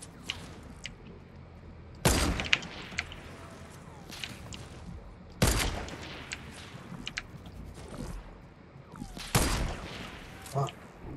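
Fortnite video game gunfire: three loud, sharp bursts of shots spaced a few seconds apart, with fainter game sounds and footsteps between them.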